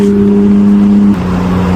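Porsche 911 GT3 engine heard from inside while driving in normal mode, a loud, throaty, steady drone whose pitch drops briefly as the car shifts, then holds.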